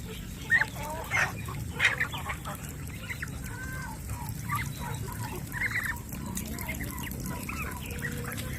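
A flock of pet fowl clamoring in their pen at feeding time, a dense chorus of clucks, squawks and honking calls overlapping continuously, with a few louder calls standing out near the start.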